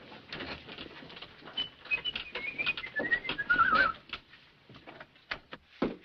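Pigeons coo softly outdoors, murmuring burbles mixed with faint chirps, flutters and light patter, all low in level and continuous across the scene.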